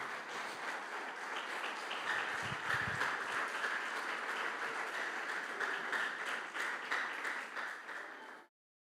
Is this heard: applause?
yes